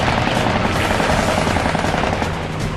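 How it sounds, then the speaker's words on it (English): Continuous rapid rattling bursts of .50 caliber machine guns fired from a WWII fighter plane during a dogfight, dense and loud throughout, blended with a heavy roaring engine drone. "He stays right with him, raking the enemy with his 50 cals."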